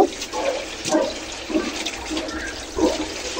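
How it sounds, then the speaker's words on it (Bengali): Rohu fish being rinsed and cleaned by hand in water, with splashing and running-water washes in uneven bursts, close and moderately loud, no voices. "আর এদিকে যে আমি মাছগুলা ভালো করে ধুয়ে পরিষ্কার করে নেব, আজকে তো রুই মাছ রান্না করব।"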